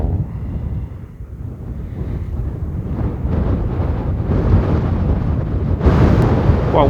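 Wind buffets a phone microphone at a volcano crater at night, a continuous rough, low roar that swells louder in the second half and peaks near the end.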